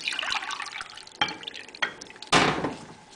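Water sloshes and drips while monarch butterfly cages are rinsed in a bath, with soft trickling broken by three sharper splashes in the latter half, close and moderately loud.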